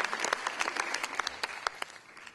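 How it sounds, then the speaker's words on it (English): A room full of people at a fashion Q&A applauds, with crisp individual claps standing out of a broad patter that thins and fades toward the end. "Thank God they clap."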